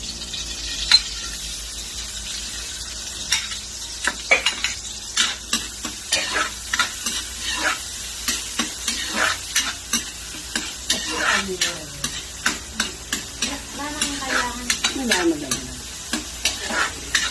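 Garlic and onion sauté in a hot pan for pinakbet, with a steady sizzle and repeated stirring scrapes and clinks running throughout, close and moderately loud, while a voice speaks briefly.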